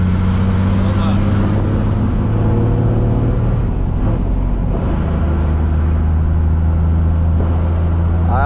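A Chevrolet Silverado with a 6-cylinder MWM diesel rated at 400 hp, revving loud and close as the turbo spools, engine pitch climbing and falling, with people talking over it.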